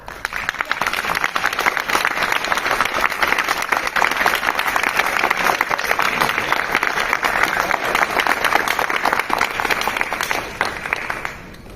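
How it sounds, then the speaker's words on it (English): A live audience claps steadily and loudly at a talk event in Dallas, dense applause sustained for about eleven seconds with no speech over it, fading slightly at the very end. "let's give her another round of applause"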